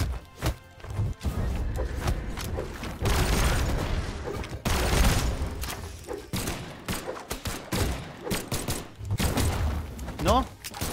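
Rapid bursts of gunfire and heavy thuds from the Brawlhalla fighting game, loud and repeated across the span, with excited Spanish speech from a player running over much of it.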